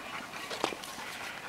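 A dog panting quickly during frisbee play, a short breathy burst close to the microphone with a brief sharp sound in the middle, over low background noise.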